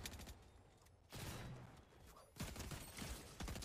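Bursts of gunfire aimed at NPC enemies in Fortnite rattle out in separate clusters, fairly faint and mid-distance, with gaps of quieter game ambience between the volleys.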